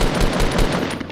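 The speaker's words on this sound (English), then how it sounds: "That was just a bad snipe shot." Sniper rifle fire in Fortnite, a dense, loud burst of gunfire that continues for the whole short moment with no talk over it.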